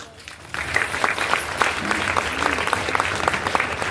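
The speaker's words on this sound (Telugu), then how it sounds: "ఒక్కసారి గట్టి క్లాప్స్" Loud applause from a crowd at a sales gathering starts abruptly after a brief quiet moment, then continues as a dense, steady burst of many hands clapping.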